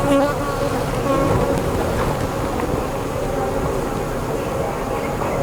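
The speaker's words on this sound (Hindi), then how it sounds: "मधुमक्खी, श्रमिक मक्खी अधिक से अधिक निकलती हैं।" Honeybees buzz steadily and loudly around a beehive frame holding brood and larvae, worker bees swarming out in a dense continuous drone with faint voices beneath.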